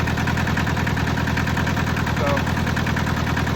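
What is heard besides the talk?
rusty Hinomoto tractor engine idling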